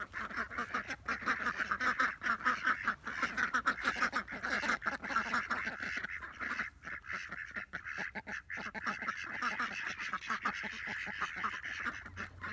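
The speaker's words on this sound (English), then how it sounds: "Putting the ducks away isn't a rushed process." A flock of homestead ducks quacks steadily as they are herded into their shelter for the night, overlapping calls close by, with scattered honks and an occasional soft voice.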